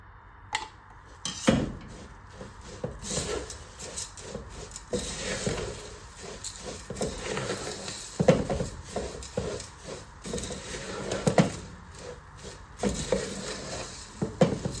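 Puffed rice being stirred with syrup in a bowl for aval poori, giving soft scraping and rustling with scattered light clinks of a utensil against the bowl, close and uneven.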